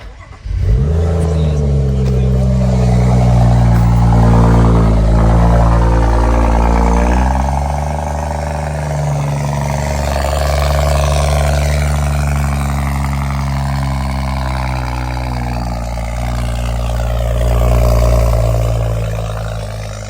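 A BMW F10 535i with a pops-and-bangs tune and custom intake cranks on a cold start and catches, then settles into a loud, rough high idle that rises and falls slightly, running on alone without talk.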